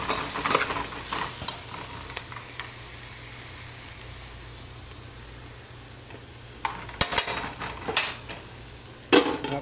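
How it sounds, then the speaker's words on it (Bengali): Eggplant and potato fry in a pan while being stirred, with a continuous sizzle under scattered sharp scrapes and clinks of the utensil against the pan. "বেগুনটা ঢেলেছি, একটু নেড়ে ছেড়ে দিই। ঠিক আছে, তারপর আলুটা দিচ্ছি।"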